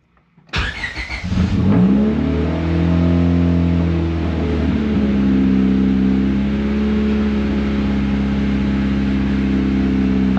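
A 1999 Honda Civic engine cranks and catches, revs up loudly, then settles into a steady, droning high idle.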